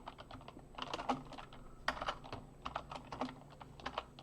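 Keystrokes on a computer keyboard during coding work, a quiet, close run of irregular clicks with brief pauses, uneven in rhythm and without talk.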